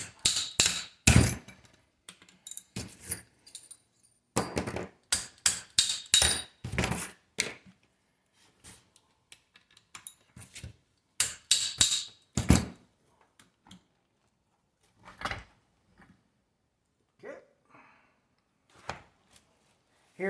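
Sharp metallic taps and clanks ring out in irregular bursts, then thin out toward the end. A makeshift hammer strikes parts of a TH400 automatic transmission from a 1968 Pontiac GTO during a rebuild in a quiet workshop.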